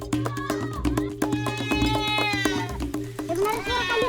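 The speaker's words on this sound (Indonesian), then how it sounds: "Kami mendengar suara kambing dari sisi jurang" Repeated bleating of a goat or sheep, wavering calls close by and fairly loud, overlapping one another over a steady low hum.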